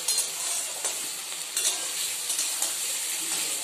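Chow mein noodles fry in a hot pan, giving a steady, close sizzle with a few stirring scrapes along the way and no voices.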